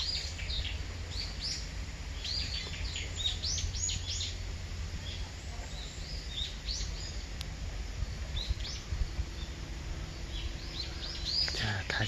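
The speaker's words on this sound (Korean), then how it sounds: "새소리도 들리죠?" Small birds chirp in repeated short, high bursts in an island woodland beside an old camellia tree, fairly faint and somewhat distant over a low steady background hum.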